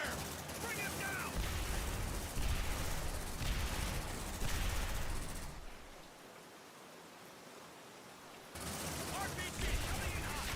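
Dense, sustained gunfire from Aliens: Dark Descent rattles on as a continuous hissing crackle of rapid shots, briefly dropping away before resuming at full intensity, with voices speaking over the combat.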